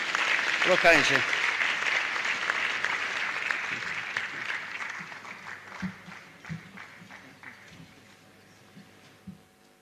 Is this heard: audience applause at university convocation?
yes